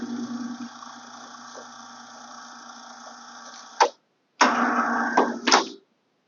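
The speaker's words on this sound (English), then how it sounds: "she put in this lovely electric pulley system that just" An electric pulley system hauls up a basement stairs hatch with a steady, close motor whine that cuts out abruptly, then restarts with louder grinding and clunks before stopping.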